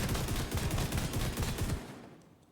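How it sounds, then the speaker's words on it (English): A Lefty named shotgun in The Division 2 video game fires a rapid, heavy string of loud blasts that runs for under two seconds, then cuts off and leaves a fading reverberant tail. "I'm going to show you what the shotgun does"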